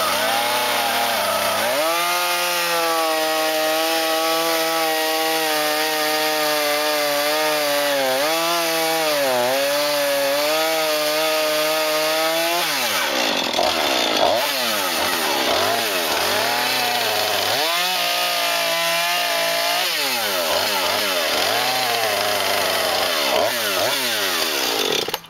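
A chainsaw cuts a notch into a wooden deck beam for a second-story deck, loud and close, the engine droning steadily while its pitch sags and recovers under load, then revving and idling unevenly after the cut.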